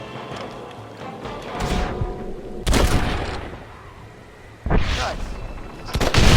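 Gunfire cracks out in a Wild West shootout in Red Dead Redemption, a few loud bursts of shots and impacts over game music, with someone speaking briefly.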